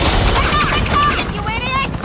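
Bursts of police gunfire in a Batman video game, loud and dense across a short stretch, with the crackle of shots running together into a continuous volley.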